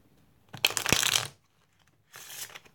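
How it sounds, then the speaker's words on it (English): Two bursts of playing cards riffling together: a loud fluttering rush, a pause, then a shorter, softer riffle, close and without voices. "a riffle shuffle"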